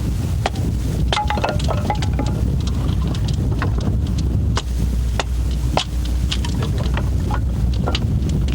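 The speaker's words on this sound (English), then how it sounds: "a boat on the water, featuring a boat that chugs along to a slightly different tune" A boat chugs along on the water in Southeast Alaska, its engine a steady low rumble that carries on without a break, with scattered ticks and splashes over a windy or rainy outdoor background.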